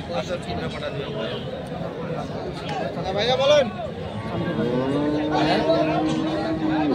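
Beef cattle and bulls at a cattle market in Chattogram low and bellow amid a busy crowd, with several drawn-out moos rising over constant chatter and background babble.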